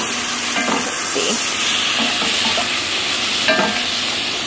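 Two cans of green beans are stirred in a hot pan, a steady loud sizzle and crackle with a few scraping stirs over it, and no voices.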